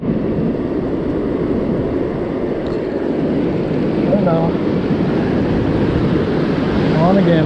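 Ocean surf rolls and breaks steadily on a Northern California beach while surf perch fishing, a loud continuous wash with wind rumbling across the microphone throughout.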